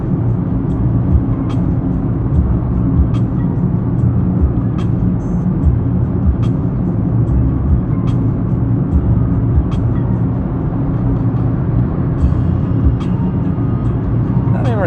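Steady low drone of a Mitsubishi Mirage engine at about 2,200 RPM while cruising on a highway, mixed with road and tire noise, continuous and even throughout with faint ticking sounds.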